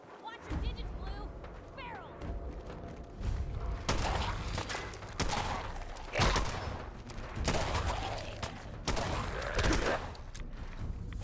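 Bursts of machine gun fire crackle in Fallout 4, repeated volleys of rapid shots and thuds spread across the stretch, with a voice talking over them at moderate distance.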